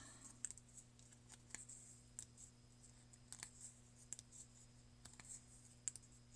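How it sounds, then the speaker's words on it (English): Faint irregular small clicks as thread is wound onto a homemade tatting shuttle, sparse light ticks scattered over a quiet background with a low steady hum. "And you hear how there's almost that clicking noise?"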